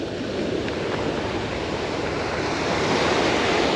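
Ocean surf at Flagler Beach, Florida, a steady, continuous wash of breaking waves heard close by with some wind noise, holding level throughout and building slightly toward the end.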